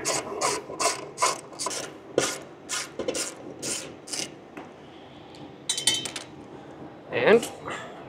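Bolts come off an Airbus A320 wheel cover with a ratchet tool, giving a series of sharp, close, rhythmic clicks in quick strokes, a brief lull, then a final few clicks.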